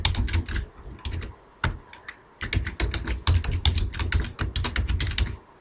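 Fast, steady typing on a computer keyboard, close and clear, with dense bursts of key clicks broken by short pauses.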